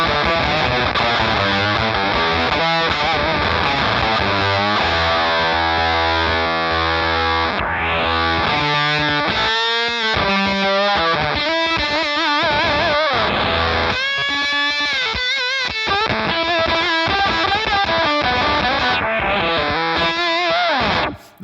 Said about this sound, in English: That's almost verging on fuzz, you know, it's got a very fuzzy quality to it.